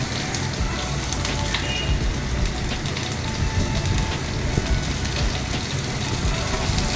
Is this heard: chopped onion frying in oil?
yes